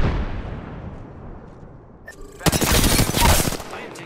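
Gunfire in a battle royale shooter video game: a single sharp shot, then a dense burst of rapid automatic fire, loud and close. No one speaks.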